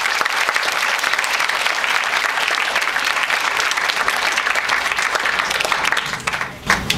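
An audience claps in steady, sustained applause to welcome a Holocaust survivor speaker, a dense wash of hands that begins to thin out at the end.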